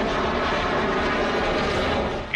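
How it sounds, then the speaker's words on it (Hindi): Dassault Rafale fighter jet flying, a loud, steady broadband jet roar filling the whole clip without letting up, with no voices over it. "राफेल की आवाज दुश्मन को कंपाने वाली है"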